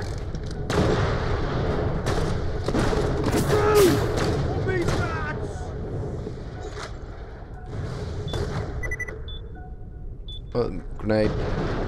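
A grenade blast in the shooter Borderlands: The Pre-Sequel, a heavy boom among repeated gunfire and thuds, loud and close, with a voice talking over the combat.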